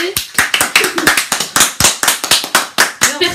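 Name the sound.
applause for 1000 subscribers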